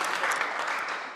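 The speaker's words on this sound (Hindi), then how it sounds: "इस भाई के लिए एक बार स्पेशल तालियां हो इनके लंबे संघर्ष के लिए" Brief burst of applause from an audience at a political zonal meeting, a dense crackle of many hands clapping at close range for just over a second.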